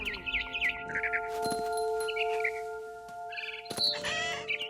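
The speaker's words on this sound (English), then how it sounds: "Then I heard chirping outside my window. It was a barn swallow going back to her nest." A barn swallow in a house in What Remains of Edith Finch gives rapid, high chirps in short bursts over a steady background drone, with a few sharper clicks and rustles between calls.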